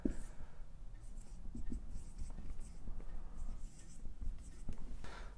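Chalk or marker writing on a board during a maths lesson, a continuous close scratchy scraping with short strokes and brief pauses.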